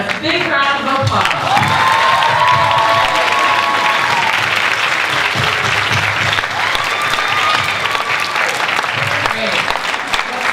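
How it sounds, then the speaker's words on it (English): Fashion show audience breaks into loud, sustained applause with cheering and whoops, a dense wash of clapping close by that holds steady throughout, with crowd voices and shouts mixed in. "Big round of applause."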